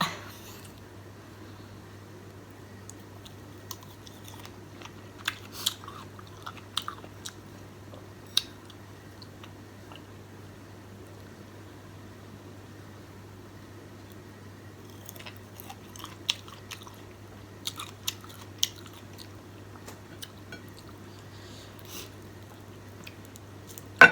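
Someone eats santol and star fruit, giving faint, close, crunchy chewing and biting clicks. They come in scattered bursts over a low steady hum, with no speech.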